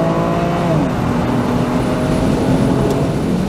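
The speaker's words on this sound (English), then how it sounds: "323i engine, you know, nothing particularly special, but my goodness, does it sound good" A BMW Z4 with a 323i engine drones at a steady, loud, close pitch throughout, a continuous engine note from inside or beside the car with only slight variation.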